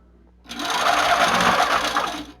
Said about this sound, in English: press run, and the machine is going to start stitching